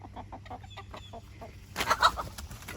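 Chickens, including bantams, cluck in a quick, repeated rhythm close by, then a louder burst of agitated clucking and squawking from several birds.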